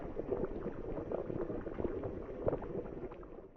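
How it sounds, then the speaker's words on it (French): Water boiling steadily, a dense, continuous bubbling and churning that stays even in loudness throughout, with no voices. "même sur le bruit de l'eau qui bout"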